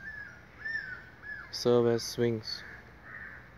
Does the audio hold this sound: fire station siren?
no